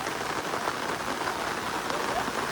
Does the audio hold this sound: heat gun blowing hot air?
no